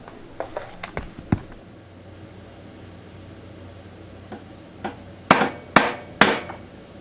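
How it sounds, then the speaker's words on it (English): A small sledgehammer taps a flywheel shaft in sharp metallic knocks, several light irregular taps followed by three louder, evenly spaced blows near the end. "I'm going to tap this with a small sledgehammer as I apply pressure upward on the flywheel"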